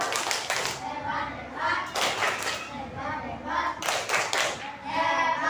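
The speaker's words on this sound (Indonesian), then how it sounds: "Tepuk tangan. Tepuk hebat." Primary schoolchildren in a classroom perform a patterned 'tepuk hebat' clap, bursts of group clapping in rhythmic clusters, mixed with children's voices chanting along.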